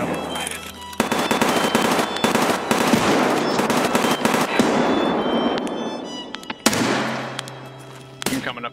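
Grenade blasts and dense gunfire in a video game firefight at Interchange, loud and continuous with sharp explosive bursts at the start and again near the end, over a low steady hum.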